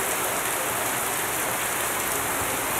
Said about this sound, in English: It's starting to rain pretty heavily.